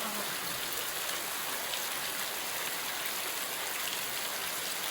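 Heavy monsoon rain pours down steadily near a flooding farm, a dense, even hiss of drops on surfaces that holds without pause throughout, with no talking.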